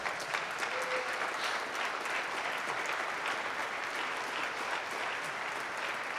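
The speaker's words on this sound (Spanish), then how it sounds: "Dale un fuerte aplauso entonces a Jesús." A church congregation at a faith seminar claps steadily and densely throughout, a sustained wash of many hands at even loudness with no break.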